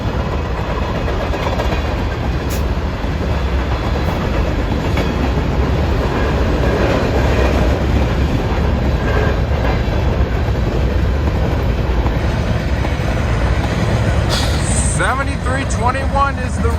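A BNSF grain train with a rear-end helper locomotive rolls past at Kennewick, Washington: a loud, continuous rumble of wagons with clickety-clack wheel beats and brief metallic squeals near the end.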